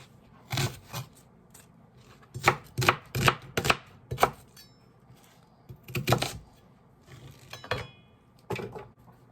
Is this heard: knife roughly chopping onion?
yes